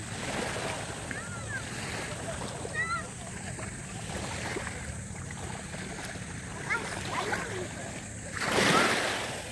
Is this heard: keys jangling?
no